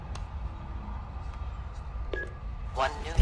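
In the video game Until Dawn, a phone is dialed, with a few short tonal beeps at irregular intervals over a quiet room hum, and a voice starts speaking near the end.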